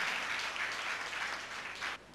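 Audience clapping at a Bharat Swabhiman Movement gathering in Patna, Bihar, a steady wash of many hands that holds for about two seconds and then drops off.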